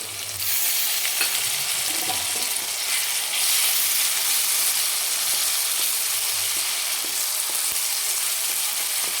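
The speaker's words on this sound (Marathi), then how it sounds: "छान मिक्स करून घ्यायचं तळून घ्यायचे आपल्याला हे पूर्ण सुके मसाले" Whole dry spices fry in a pan, giving a steady, close sizzle and hiss throughout, with faint stirring scrapes now and then and no voices.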